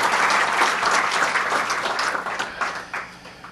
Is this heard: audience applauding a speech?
yes